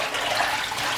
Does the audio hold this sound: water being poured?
yes